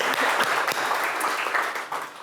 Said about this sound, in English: Give these panelists a round of applause